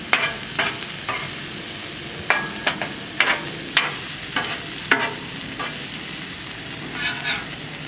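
Blackened salmon on a grill pan, crackling in a low bed of sizzle, broken by a series of sharp scrapes and clanks from a spatula or masher at irregular intervals.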